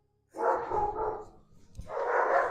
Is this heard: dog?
yes